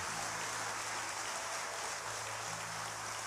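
Sustained applause from a church congregation, a dense, even patter of many hands clapping at a moderate distance, filling the whole stretch with a faint low hum underneath.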